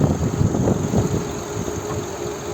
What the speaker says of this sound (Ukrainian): Робота двигуна дуже рівно і тихо працює